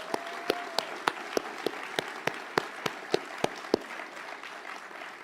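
Sparse, quiet applause at a city address event, with distinct individual claps standing out sharply in an irregular rhythm over a soft bed of scattered clapping.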